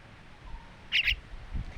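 A baby bird chick, fallen from its nest, calls for its mother outdoors: two quick high chirps close together, faint over a low background hiss.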